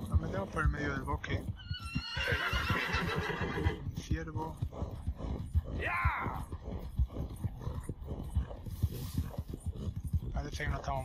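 A tired horse in the video game Red Dead Redemption 2 whinnies and snorts repeatedly over steady clip-clopping hooves, close and loud, while someone talks over it.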